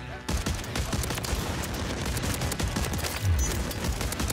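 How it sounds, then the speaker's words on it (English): Repeated gunfire bursts from a shotgun in Call of Duty MW3, dense and loud throughout, with overlapping game effects and voices talking over the shots. "Fire shotgun."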